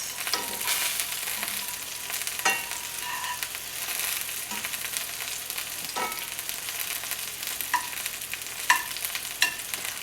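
Croutons fry in a pan with a steady close sizzle, punctuated by occasional clicks and scrapes as they are stirred.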